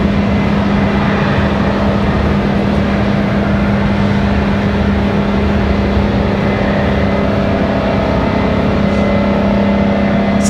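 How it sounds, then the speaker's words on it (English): A Delta A220 airliner moves on the ground at Raleigh-Durham International Airport, heard as a steady, loud, unbroken engine drone with a constant low hum and no voices. "Sounds like that's the Delta A220 on the move."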